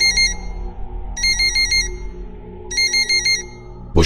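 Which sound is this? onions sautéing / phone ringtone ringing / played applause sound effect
phone ringtone ringing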